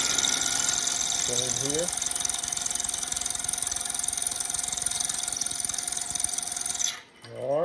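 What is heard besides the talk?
wood lathe spinning a red cedar duck call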